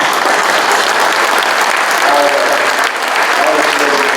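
Audience applause fills a county supervisors meeting, a dense, steady clapping wash that holds at full level throughout, with a voice briefly audible over it.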